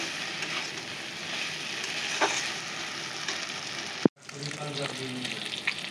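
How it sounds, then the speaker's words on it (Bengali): Peeled eggs fry in a hot pan with a constant bright sizzle, broken briefly by a sharp clank and a moment of quiet before the frying resumes. "ডিমগুলো ভাজা বসিয়ে দিয়েছি"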